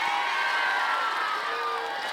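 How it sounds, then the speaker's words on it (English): A campfire audience claps and cheers together, a dense continuous burst of applause and shouting voices from a crowd at a summer camp gathering. "If you think they should build a shelter, clap now."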